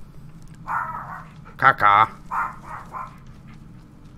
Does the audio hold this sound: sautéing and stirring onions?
no